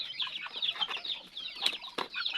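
Newly hatched ducklings give high, rapid peeping chirps in quick overlapping bursts, close by and fairly loud, with faint rustling between calls.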